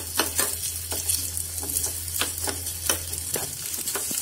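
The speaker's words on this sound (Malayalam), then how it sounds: "ഇതിലോട്ട് നമുക്ക് ഈ കോക്കനട്ട് ചേർത്ത് കൊടുക്കാം ഒരു ലൈറ്റ് ബ്രൗൺ കളർ വരുന്ന വരെ ഫ്രൈ ചെയ്തെടുക്കാം" Grated coconut fries in ghee in a pan, a steady loud sizzle with repeated scraping strokes as it is stirred, no voices over it.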